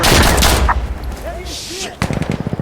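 Automatic gunfire in the tactical shooter Insurgency: Sandstorm: a loud opening burst, a brief lull, then a rapid rattling run of shots near the end, with voices speaking between the bursts.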